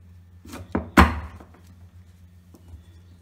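A knife chops ripe mango into small pieces on a board, giving a few sharp, close thunks, the loudest near the middle, followed by softer taps.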